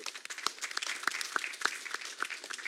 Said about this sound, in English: Can we get a round of applause for Marco?